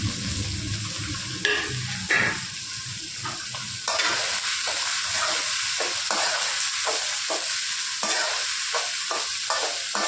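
Mustard seeds, split dal, onion and green chillies tempering in a hot pan for Tamil kozhukattai dough, a steady close sizzle broken by repeated scraping stirs and spatula knocks.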